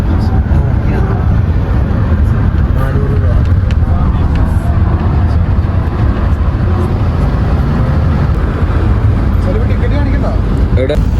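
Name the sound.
riding the A1 city bus in Belgrade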